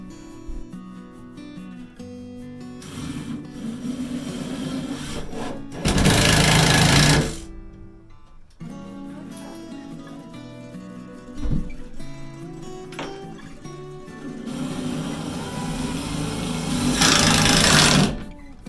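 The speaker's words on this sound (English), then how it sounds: "Doing 1 screw on the top here, and then the 2nd screw I'm going from the side, right in the center of it, securing it to the floor." Screws being driven into a wooden ladder-style chicken roost with a power drill, in loud close bursts that rise to high-pitched whines around six and seventeen seconds, with quieter whirring and handling noise between them.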